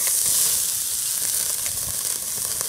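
A thin steak sizzles loudly and steadily on a barbecue grill just after being flipped, a continuous close frying hiss with no voices.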